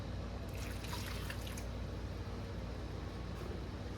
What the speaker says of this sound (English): 3/4 cup of apple cider vinegar